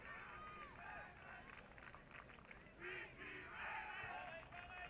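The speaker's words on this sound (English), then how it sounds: "now you hear the crowd chanting BC Raven" Spectators at a men's college soccer match between Baker and Benedictine chant in unison, a rising and falling roar of voices heard from a distance.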